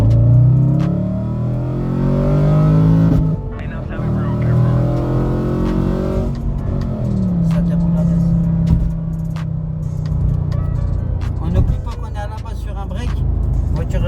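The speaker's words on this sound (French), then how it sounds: "L'intérêt de ce V8, il marche très fort même en bas." An Audi RS4's 4-litre naturally aspirated V8 drones loud and close, its pitch climbing through revs and gear changes. The engine note holds steady in places, and a voice may sit faintly beneath it.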